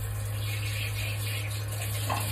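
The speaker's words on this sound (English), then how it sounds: "I'm just gonna run the water. If I can find the tap." Water running from a bathroom tap into a sink, a steady continuous rush that fills the whole stretch, loud and close with no talking.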